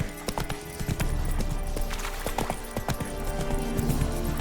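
Roach the horse gallops in The Witcher 3 video game, a steady run of hoof clip-clops with a short whinny, loud and close, with no talk over it.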